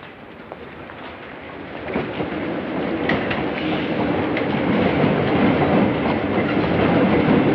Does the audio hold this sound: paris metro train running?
yes